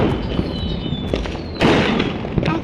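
Small Diwali firecrackers burst on a road below a rooftop, sounding as a dense crackle with sharp pops and a louder burst midway, amid distant fireworks booms and a faint whistling rocket.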